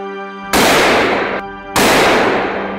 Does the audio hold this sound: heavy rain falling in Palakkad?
no